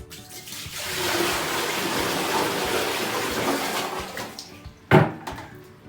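Water from a bucket pours into a squat toilet as a steady rushing gush lasting several seconds, then trails off into drips and ends with a single sharp clunk.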